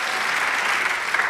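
A church congregation applauds during a sermon, giving a brief, steady burst of clapping that stays loud and even from start to finish.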